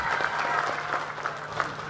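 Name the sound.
audience applause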